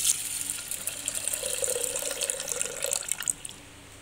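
Water runs from a kitchen tap as toor dal is rinsed in a vessel, a steady close splashing wash with a brief stronger swirl near the end, no voices.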